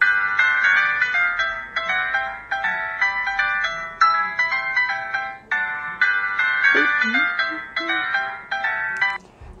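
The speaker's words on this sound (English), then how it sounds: "Here's my ringtone, by the way." A bright, chiming LG Xenon phone ringtone plays a repeating melodic pattern in short looping phrases, clear and fairly close, with no talking over it.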